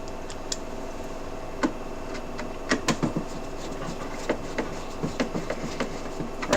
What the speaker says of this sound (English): the first thing we're going to screw in is these top screws right here